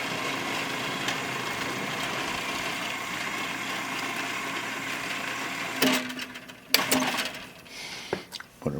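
A Rock-Ola 477 jukebox mechanism runs in scan mode with a low, steady mechanical hum close by, then gives a few sharp clicks and clunks near the end.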